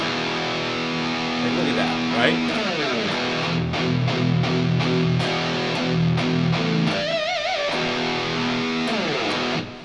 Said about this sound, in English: It does distortion insanely well.